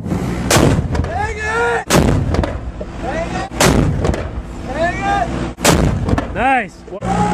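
Mortar rounds fire in Afghanistan in a series of loud, sharp booms, roughly four launches spaced a couple of seconds apart, with rumbling tails and muffled shouting voices in between.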